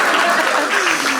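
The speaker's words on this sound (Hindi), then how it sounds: "आप चिराग के लिए ताली बजा दो एक बार।" Audience applause for the winner at a stand-up comedy show, a dense wash of clapping with a few voices and cheers mixed in, loud and close for just over a second.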